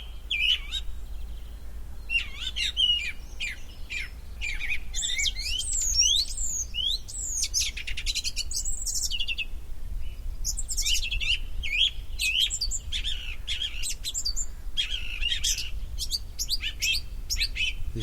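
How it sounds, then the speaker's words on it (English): A song thrush sings nearby in varied, repeated phrases of bright whistles and chirps, continuous over a faint steady background hum. "above me is the most beautiful, plump song thrush you can imagine. And he's singing his little heart out."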